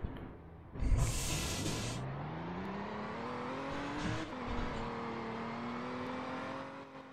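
A fire engine in a law-enforcement and firefighting game drives steadily, its engine note rising and falling with gear changes after a brief burst of hiss near the start, continuous and fairly loud with no talk.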